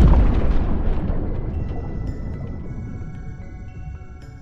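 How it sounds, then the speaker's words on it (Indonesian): A big explosion bursts out loud at once, then its deep rumbling boom slowly fades, with faint crackling debris scattered through the decay. "sebuah ledakan dari serangan jin terjadi."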